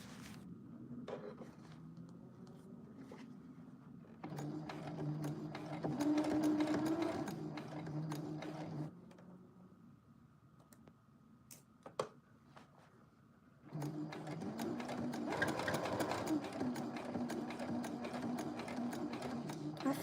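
A home sewing machine stitches leather slowly, running in two longer spells of soft, rapid mechanical whirring and ticking, with quieter handling noises and clicks between them.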